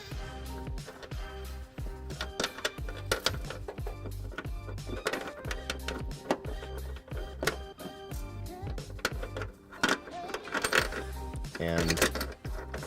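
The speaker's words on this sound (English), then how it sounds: "I'm simply going to insert those up into the frame." Metal carriage bolts, 1.25 inch, being fed up into a 2011 Kia Optima's frame rails for a trailer hitch: busy rattling clinks and scraping of hardware, close and continuous.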